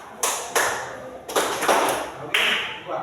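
Students in a classroom clap on cue in a few separate sharp bursts, single claps and short pairs spaced by brief pauses, fairly close with room reverberation and a quiet murmur between.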